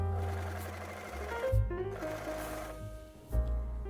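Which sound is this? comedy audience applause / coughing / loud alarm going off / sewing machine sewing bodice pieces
sewing machine sewing bodice pieces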